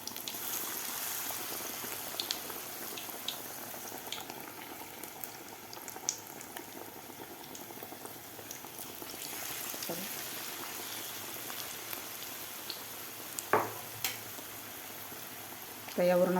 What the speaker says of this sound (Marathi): आता हे सारण लावलेल्या ब्रेडचे पकोडे आपल्याला यामध्ये सोडायचे आहेत.